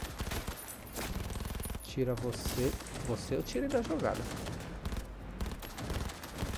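Rapid bursts of gunfire in Cyberpunk 2077: Phantom Liberty crackle in repeated volleys while someone talks excitedly over the shooting.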